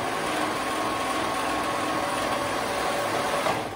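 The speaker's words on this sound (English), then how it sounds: "we're gonna sew them together at the raw edge" Sewing machine running steadily as two robe pieces are stitched together along the raw edge, a continuous even motor whir at close range for the whole stretch with no pauses.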